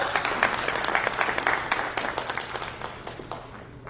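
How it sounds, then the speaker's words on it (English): Audience at a charity fundraising gala applauds loudly for a speaker being introduced: a burst of dense clapping with distinct individual claps that gradually thins and fades toward the end. "On l'applaudit très fort."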